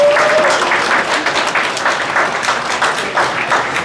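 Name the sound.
round of applause for company employees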